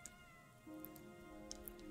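A cat meows with a drawn-out, wavering caterwaul inside the video game Wuthering Waves, heard alone and fairly close over a faint steady background hum, with no talking.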